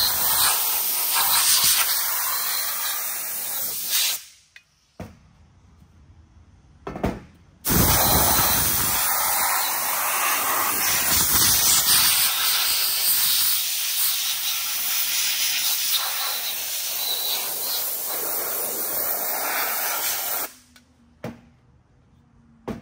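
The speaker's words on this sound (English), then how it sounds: "Great clean pressure washer." A pressure washer sprays engine parts clean with a loud, harsh jet of hiss. The long blasts break off twice into short pauses, and the spray is close up with no talking.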